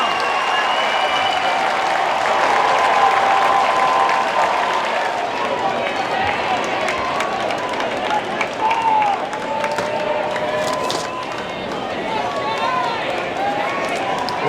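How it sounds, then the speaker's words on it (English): A baseball crowd at a high school championship game cheers after a double play, a loud sustained roar with clapping and shouts, with an announcer talking over it. "Listen to that extra crowd."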